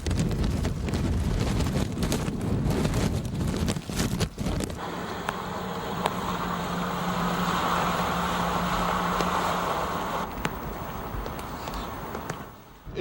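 Strong wind buffets the microphone on a beach during Hurricane Floyd in 1999, loud gusty roaring throughout with heavy low rumble and a shift in tone midway.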